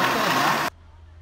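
A blender motor whirring loudly up close as it blends coconut, then cutting off abruptly partway through, leaving only a faint low background hum.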